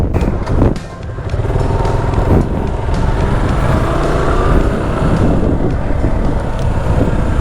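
A rented motorcycle engine runs steadily at close range in the Visayas, Philippines, with a rough low rumble and wind buffeting the microphone throughout.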